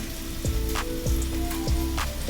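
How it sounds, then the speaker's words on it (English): Red wine poured into a pot of beef stew sets off a steady, close sizzle and bubbling, with a few soft thumps as liquid hits the hot pot. "We're going to add the half a cup of red wine."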